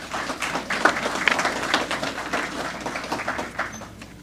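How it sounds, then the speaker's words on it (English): A crowd applauds, a dense wash of clapping that swells and fades gradually, with a few sharper claps standing out. "give you, your families, and supporters a rousing round of applause"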